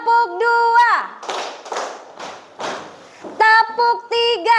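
A classroom of students claps a pattern together in a few broad, loud bursts of group clapping, with a teacher's voice calling out before and after.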